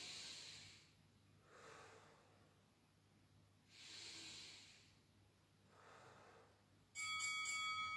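Slow, deep breathing during a wall sit exercise, long airy hisses rising and falling in a steady rhythm, near and fairly quiet, ending in a brief burst of louder noise.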